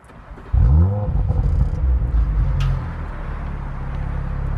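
An Audi RS5 Sportback engine with a particulate filter idling close by with a low, steady rumble and faint mechanical valve ticking, beginning abruptly as it starts up.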